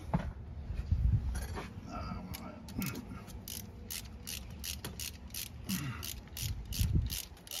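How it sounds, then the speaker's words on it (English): A ratchet fitted with a 13mm socket works on the fuel rail of a 2019 Silverado truck during a teardown, giving quiet, rapid clicking strokes in short repeated bursts among faint metallic handling noise. "Using a 13mm socket."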